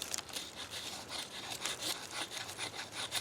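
A Savage CSH full flat grind knife cuts into wood in steady back-and-forth strokes, a continuous rasping, scraping sound close up with no talking.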